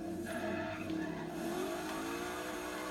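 A Chevrolet El Camino muscle car drifting in Forza Horizon 3: a steady, loud engine drone with tyre squeal, holding a continuous revving tone as the car slides through the turn.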